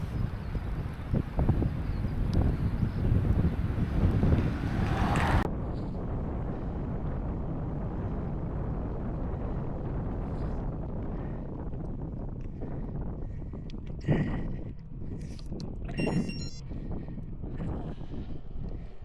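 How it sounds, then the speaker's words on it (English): Heavy wind buffets the microphone during an outdoor bike ride, a loud broadband roar for the first five seconds that then eases into a lower, steadier rush with occasional gusts and thumps. "Hopefully out of the wind for a minute"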